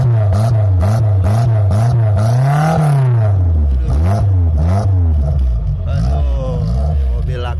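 A Suzuki Katana 90 engine revs hard in repeated rising and falling swells, loud and close, with a rough clattering edge throughout and no pauses.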